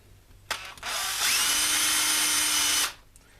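A power drill boring into a wooden patress for a vintage Bakelite switch: a short trigger blip, then a loud, steady high-pitched whine for about two seconds before spinning down.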